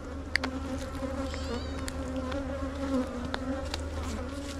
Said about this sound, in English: We got some spicy bees.